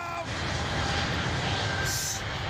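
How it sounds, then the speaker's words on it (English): A Boeing 787 Dreamliner passes at London Heathrow, a steady broadband roar of jet engines that holds loud and constant throughout, with some faint background talk underneath. "That was the Dreamliner going past"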